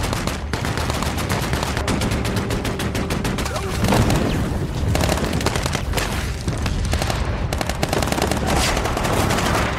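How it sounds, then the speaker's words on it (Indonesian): Dense bursts of gunfire and rocket launcher shots crackle and boom almost without pause in a war film battle, loud and close, with rapid volleys layered over heavy blasts. "Mullah Razan dan pasukannya langsung menembakkan senjata tersebut ke arah Nelson dan tim"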